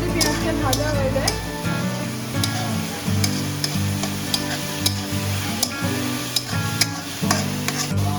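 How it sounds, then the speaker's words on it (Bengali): Sliced onions with a little sugar fry over a raised flame, a steady sizzle with spatula stirring scrapes and clicks, and a steady low hum running underneath. "একটু তাড়াতাড়ি পেঁয়াজটা ভাজা হয়ে যায়"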